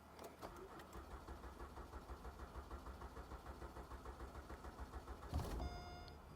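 An Acura TL with an electric power steering fault cranks with a rapid rhythmic churning, then catches and starts near the end, settling into a quiet idle.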